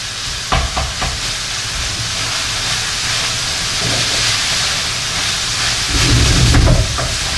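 Ground meat for ragù alla bolognese sizzles and fries in a pot after its liquid has boiled off, a continuous close hiss with occasional stirring scrapes and a louder burst near the end, with no talking.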